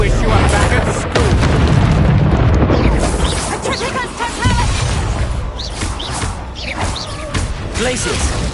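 Explosive spell blasts and booming impacts from the Hogwarts Legacy video game, with loud dense rumbling bursts and crashes piling up throughout amid battle noise, with voices shouting spell names over the chaos.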